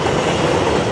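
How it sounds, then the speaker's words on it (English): An elevated subway train on the 2 line rumbles past overhead in the Bronx, New York, a steady, loud, continuous roar of wheels and rail noise with no voices. "There go the trains again."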